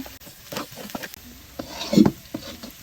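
Spices tempering in hot oil as baghar, with stirring and utensil scraping against the pot; a crackling sizzle burst swells midway among clatter and brief scrapes, with no talking.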